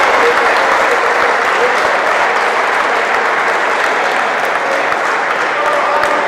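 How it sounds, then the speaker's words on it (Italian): Steady, loud applause from spectators in an indoor futsal arena at the runner-up medal ceremony, many hands clapping in a thick even wash that holds without a break. "Saluto tra gli applausi"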